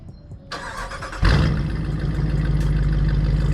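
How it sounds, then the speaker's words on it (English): A Dodge Durango R/T's 5.7-liter V8 Hemi fires up by remote start, a sharp cranking catch followed by a loud, steady, deep idle rumble that stays close and alone. "to hear what this bad boy sounds like, double tap on the remote start, give it a second"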